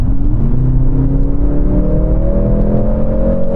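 Mercedes-AMG C63 S E Performance hybrid accelerating at full throttle in race mode: a loud, steady engine and electric-motor drone whose tone climbs smoothly and continuously as it pulls hard, heard from inside the car with no talk.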